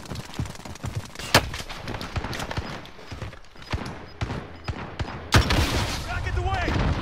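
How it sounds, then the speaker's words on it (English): Gunfire in the battle royale game Warzone: sharp, loud shots and quick bursts arrive irregularly and close by, with a heavier blast near the end over busy in-game ambience. "I'm getting shot at"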